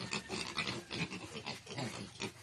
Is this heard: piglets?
yes